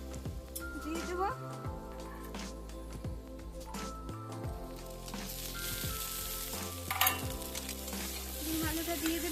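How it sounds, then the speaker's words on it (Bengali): Onion, tomato, garlic and chilli sizzle in a pan for egg curry. The frying is continuous with occasional stirring scrapes, and a voice and tonal background sounds run underneath. "আমার পেঁয়াজ টমেটো রসুন লঙ্কা সব ভাজা হয়ে গেছে"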